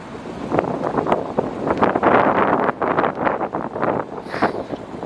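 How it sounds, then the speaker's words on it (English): Strong gusty wind buffets the microphone outdoors beside a Dodge Charger, a rough continuous roar that swells and eases throughout. "So, it's a little windy"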